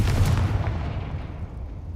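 A Confringo fire spell blasts in Hogwarts Legacy, a heavy booming burst that hits at once and then trails off into a fading rumble.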